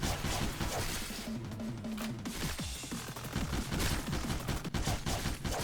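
Dense rapid gunfire from the rabbit team in the video game Lobotomy Corporation, a relentless rattling fusillade of overlapping shots mixed with sharp impacts, loud and continuous throughout with no speech.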